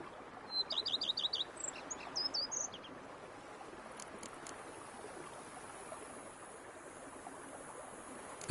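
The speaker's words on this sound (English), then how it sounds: "Bees buzzing, birds chirping." Birdsong in a peaceful outdoor scene in The Witcher 3: Wild Hunt, a quick run of high repeated chirps and a few more tweets early on, then fading into a soft, steady ambient background.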